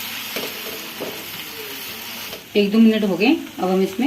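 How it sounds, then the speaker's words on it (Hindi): Garlic-ginger paste frying with browned onions for tikka chicken biryani gives a steady, moderate sizzle that is heard alone at first, then continues under a voice speaking for the second half. "1-2 मिनट के लिए हम इसको भूनेंगे लहसुन अदरक को"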